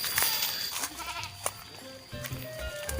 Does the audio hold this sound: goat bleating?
yes